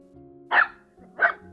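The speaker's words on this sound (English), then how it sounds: "barking at something in the ground" A dog barks twice, short and sharp, with a brief pause between, fairly close over a quiet low hum.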